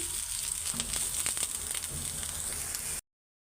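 Bitter gourd (karela) frying in oil in a pan, an even, moderately quiet sizzle with light crackles for about three seconds before cutting off.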